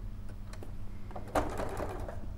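A sewing machine runs a straight top stitch, giving a steady close mechanical whir with rapid needle ticking that gets louder partway through, and no talking over it.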